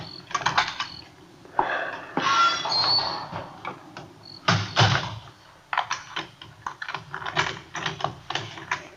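A front door opens in an old-time radio drama sound effect from 1951, with creaks and clicks of the latch and hinges heard clearly alone, with no talk.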